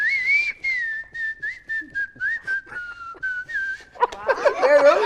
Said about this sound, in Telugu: చెప్పు విజిల్ అన్న, విజిల్ భలే వేస్తాడు.